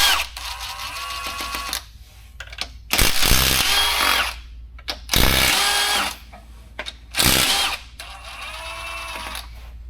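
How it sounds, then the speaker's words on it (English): Impact wrench fitted with a 14 mm socket, used to remove bolts during a 2.5L engine swap on an NC Miata: three loud, short bursts of whirring and hammering, each about a second long, separated by quieter garage background. "Now we'll grab our impact with a 14."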